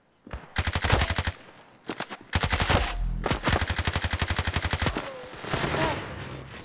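Rapid automatic gunfire in the mobile shooter game Standoff 2, several dense bursts of rattling shots separated by short gaps, loud and close, with a final sustained volley and no speech over it.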